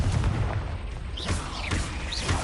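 A Confringo spell detonating in Hogwarts Legacy: a loud, booming blast with crackling bursts and whooshing streaks throughout, heard alone with no talking.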